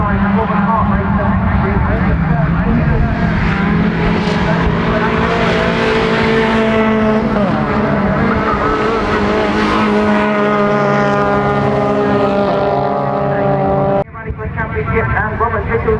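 Rallycross race cars at Croft Circuit roar past at close range, engines droning loud and steady with rising and falling pitch, and a commentator talks over them the whole time.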